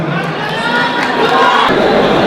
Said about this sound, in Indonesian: Kita tepuk tangan untuk penanya tadi